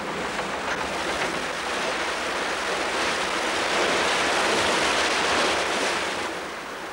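Steady rushing, churning water roars continuously as a British canal lock chamber fills, a broad, even wash of sound, swelling slightly toward the end before easing off.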